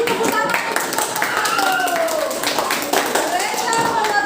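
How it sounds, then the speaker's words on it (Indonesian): Steady clapping from a classroom group, fairly loud and continuous, mixed with children's voices calling out over it. "kasih tepuk tangan"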